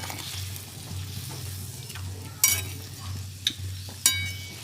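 Fish pieces stirred gently in a simmering curry, a low bubbling hum underneath and a few bright metallic clinks of a spoon against the pot spaced apart.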